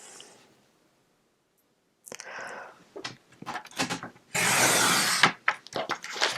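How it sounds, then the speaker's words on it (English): Paper trimmer blade sliding down the center of a sheet of craft paper: a quiet start, then close scraping and clicking strokes, one long loud rasping cut in the middle, followed by shorter scrapes and rustles. "Otherwise, it won't fit in my trimmer. And then I will cut it down the center."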